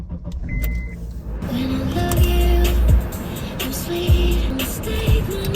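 A car begins to move off on a road trip from a national park campsite, heard from inside: a short electric whirr, then engine and road rumble building into a steady, close cabin hum with occasional thumps.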